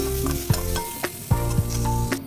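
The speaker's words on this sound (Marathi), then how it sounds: "मी त्याच कढईमध्ये कांदासुद्धा खरपूस भाजून घ्यायचा आहे" Steady sizzle of onion frying in a kadai, with several soft scraping knocks from stirring spread through it.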